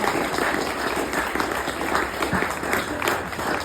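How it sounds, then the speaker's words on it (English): An audience at a Kiwanis club evening event applauding, dense steady clapping with some crowd noise mixed in, continuing throughout without talk. "let's give another big cheer for Donna"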